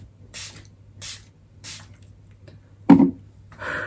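Three short hissing bursts of makeup setting spray in an even rhythm, close by, followed by a louder thump and another brief spray.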